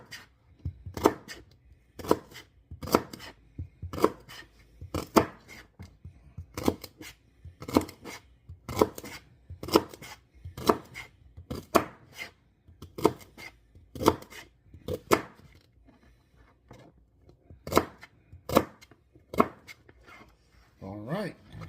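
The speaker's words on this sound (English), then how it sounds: "Now I have one more piece of celery I want to cut." A knife chops celery on a cutting board for a minestrone, with sharp, close strikes landing in quick bursts and short pauses, over twenty cuts in all.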